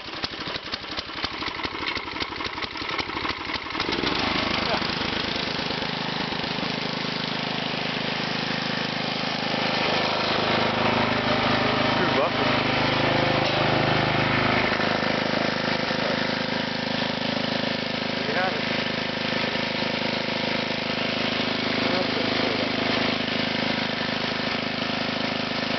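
A Briggs Intek 5.5 hp engine on a Craftsman front tine tiller starts cold after a few seconds of cranking, then settles into a steady, loud, close idle with a rough, uneven mid-pitched throb.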